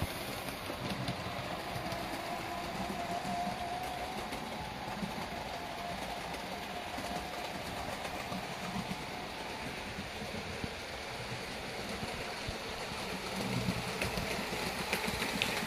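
A Midland Blue Pullman collectors edition model train runs steadily around a small layout, giving a continuous low rumbling whir with faint rattling that stays even throughout, no talking.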